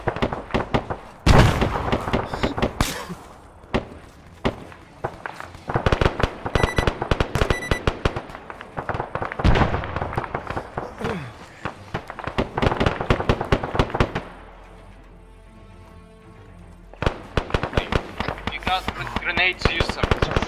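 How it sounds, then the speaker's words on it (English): Grenade blasts and gunfire in a military video game, a string of sharp explosive bangs and pops scattered throughout, with players talking over the action and a quieter stretch near the end. "Grenade out. Watch out, grenade out to that direction."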